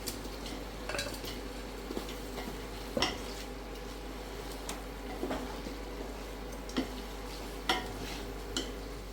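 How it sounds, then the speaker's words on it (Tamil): Cooked mutton stirred into masala in a pan for Tamil mutton biryani, a soft continuous sizzle broken by several sharp scraping knocks of a spoon against the pan, close and fairly quiet. "இப்போ வேக வச்சுருக்க கறி மட்டன் சேர்த்துக்குவோம்"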